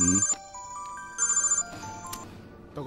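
A mobile phone ringtone plays in a Kannada movie scene, a bright repeating electronic melody in two bursts, fairly loud and close, with brief muffled sounds between phrases.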